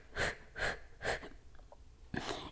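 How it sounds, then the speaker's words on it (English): Several forceful breaths are pushed out through the mouth during a yoga fat-burning routine, three close strong exhales in a steady rhythm, a brief pause, then a fourth, with no talking. "exhale through the mouth"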